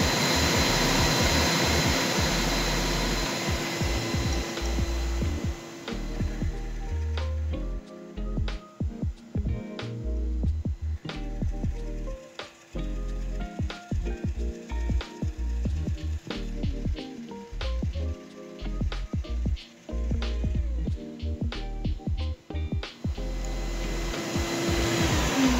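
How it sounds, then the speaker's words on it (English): A Rikon wood lathe runs at roughly 500 to 600 RPM while boring a salt and pepper mill blank, giving a loud, steady machine drone broken by repeated short clicks and dropouts, with no talk. "So this Rikon lathe is nice. It's got a nice long throw, or how far it travels"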